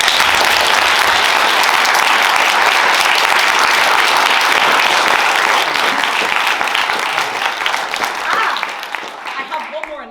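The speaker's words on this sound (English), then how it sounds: "they all deserve a massive round of applause" Sustained loud applause from a student debating society audience fills the room, dense and steady, then thins and tapers off near the end.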